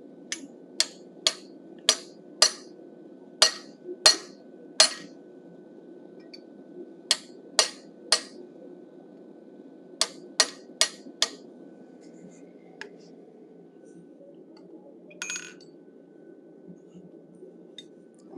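Hammer striking a pointed punch into hot steel while forging a bison head, with crisp metallic blows coming in quick clusters and pauses between them, close and ringing over a faint background hiss.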